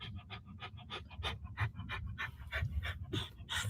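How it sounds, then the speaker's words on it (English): A Shar Pei dog pants hard and fast in distress, with rapid, rhythmic breaths close to the microphone that continue without pause and no talking. "The Sharpie dog's in a little bit of distress. You can hear it in his panting."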